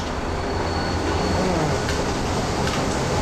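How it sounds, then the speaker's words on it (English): A train rumbles past close by during a Salem trolley bus tour, a steady heavy roar of rail cars and wheels with faint metallic squeals, loud and continuous for the whole stretch without talk. "the train's kind of blocking it right up there"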